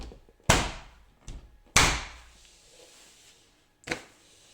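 A uPVC door weather bar is pressed into place, giving three sharp plastic snaps and knocks spaced over a few seconds, close and crisp against a quiet room.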